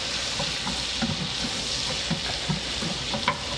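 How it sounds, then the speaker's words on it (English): A whisk stirs onions frying in a pan, a steady close sizzle marked by rhythmic scraping and clicking strokes roughly every few tenths of a second. "So I'm just going to go ahead and use this to stir the onions around with."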